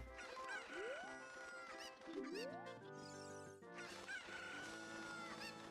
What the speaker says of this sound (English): Catch these chickens.